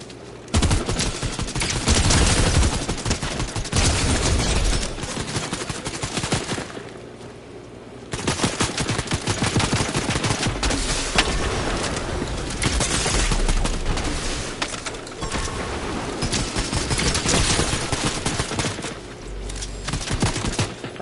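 Sustained rapid gunfire from automatic weapons in a Fortnite match, dense bursts nearly continuous for the whole stretch with a brief lull partway, loud and close with no talk over it.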